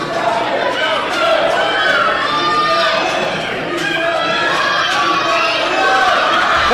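A wrestling crowd at an ECWA Super 8 independent show cheers and chatters steadily behind ringside commentary, a dense, sustained roar of voices rising and falling without letup.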